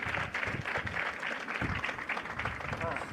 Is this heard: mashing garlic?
no